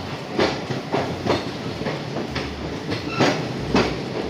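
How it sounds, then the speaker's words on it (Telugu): A train runs along a single-track line toward Dudhsagar in Goa, with steady rumbling and a regular clickety-clack of wheels over rail joints, close and loud, with no voices. "మళ్ళీ ఒకటే ట్రైన్ ఉంటుంది, ఒకటే ట్రాక్ ఉంటుంది"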